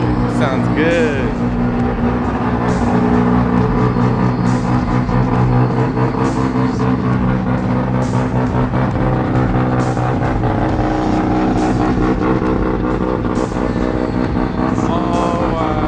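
A supercharged Nissan S15 drift car roars at a drift event, its engine revving loudly and continuously with other engine noise around, while people nearby talk excitedly over it.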